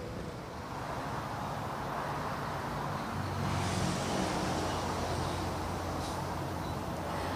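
Road traffic streams past the Sungai Buloh overpass stop as a steady, dense roar of passing vehicles with wind rumble, continuous and moderately loud, with no voices.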